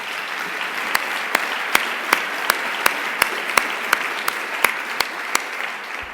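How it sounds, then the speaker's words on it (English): Conference audience applause at a family medicine education gathering, a steady wash of many hands clapping, punctuated by sharp, evenly spaced ticks throughout. "I think we should give a round of applause to Aaron for their wonderful work."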